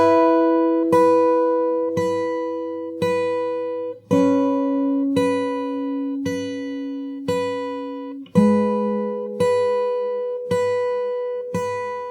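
Solo fingerstyle guitar works through the intro of a song into its verse, evenly spaced plucked chords about once a second over low bass notes that shift twice, close-miked and alone without voices.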